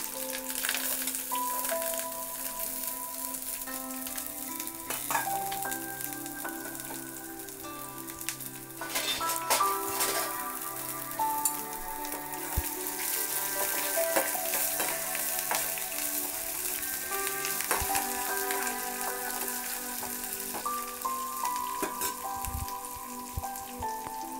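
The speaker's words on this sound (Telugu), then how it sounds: "తర్వాత ఈ కరివేపాకు, ఇప్పుడు ఈ ఉల్లిపాయలు కూడా వేద్దామండి." Onions and curry leaves fry in oil in a pan for a buttermilk curry tempering, giving a steady, close hiss and crackle that runs through the whole stretch with a few faint stirring clinks and no talk.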